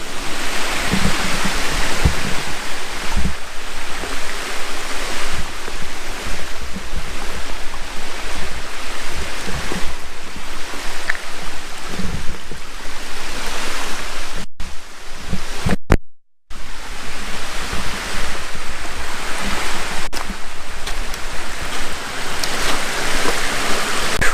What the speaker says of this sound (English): I'm going to try to cross this little babbling creek and go over to the dam.